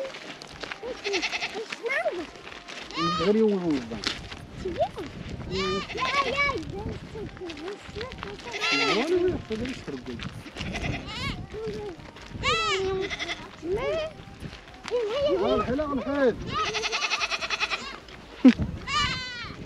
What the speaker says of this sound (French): Voilà les petites chèvres.